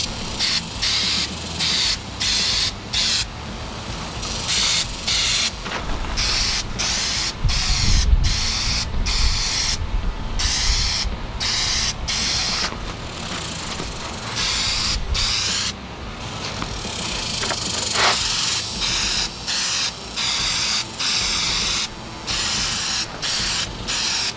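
Clear coat sprayed from an aerosol can onto a car, close and loud, in repeated hissing bursts broken by short pauses, with a longer continuous spray in the middle.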